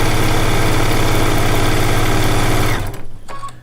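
A sewing machine runs steadily while stitching individually cut quilt pieces together, a loud continuous motor hum with rapid needle rhythm that stops abruptly near the end, leaving a few faint clicks.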